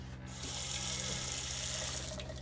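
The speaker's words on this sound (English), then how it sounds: "There's full water pressure right there." Water rushes steadily from an RV water pump line at full pressure, a loud, continuous hiss with no break, starting just after a brief quieter moment at the start.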